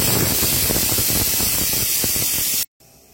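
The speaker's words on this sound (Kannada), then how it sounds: "ಇಲ್ಲಿ 1 ವಿಸಿಲ್ ಆಯ್ತು, ನಾನೊಂದು 2-3 ವಿಸಿಲ್ ತೆಗೆದುಕೊಳ್ತೇನೆ" Pressure cooker whistle while cooking Mangalore temple-style sambar: a loud, steady hissing steam blast lasting nearly three seconds, then cutting off abruptly to quiet.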